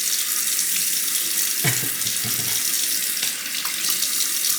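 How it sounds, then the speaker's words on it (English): Water poured onto a coticule whetstone to thin the slurry while honing a Bengall frameback straight razor, a steady close splashing stream running continuously with a brief louder spatter partway through. "I'll just do more dilution so that it becomes more water, less slurry."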